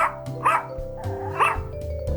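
A dog barks twice, close and loud, with sharp yips about a second apart over a steady background tone.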